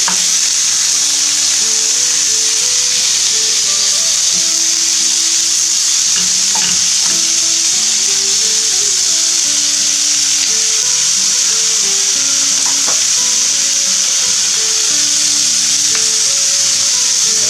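Food sizzles loudly and continuously in a smoking-hot frying pan, a dense, unbroken hiss close to the microphone, with no one speaking.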